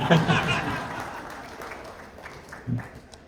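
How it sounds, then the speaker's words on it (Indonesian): Political rally crowd at the Gerakan Rakyat national leadership meeting breaks into applause, loudest at the start and fading over a few seconds, with scattered chuckles and a brief burst of voices near the end. "Tepuk tangan sekali lagi sama yang bantu bikinin"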